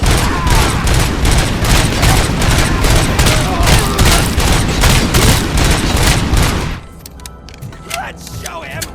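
Gunfire aimed at RoboCop in RoboCop: Rogue City, a dense, loud barrage of rapid repeated shots for several seconds that cuts off abruptly into quieter scattered sounds.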